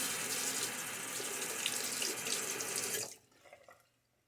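A bathroom tap pours a steady, loud stream of water while a razor is rinsed after a wet shave. The flow cuts off abruptly near the end, leaving a few faint drips and clinks.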